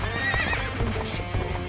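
A horse gallops in Dynasty Warriors: Origins, with rapid hoof clip-clops, close and steady, and a brief whinny, no talking.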